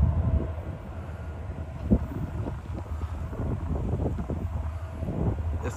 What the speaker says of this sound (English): we got a Uni-Pacific train coming around the bend